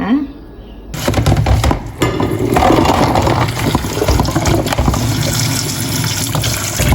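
Small tubers being washed in water, with steady splashing, sloshing and running water close up for several seconds after a brief quiet start.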